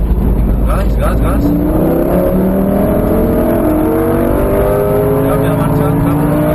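A Lamborghini on a race track accelerating hard, its engine note climbing steadily in pitch as it pulls through the gears, loud and close throughout.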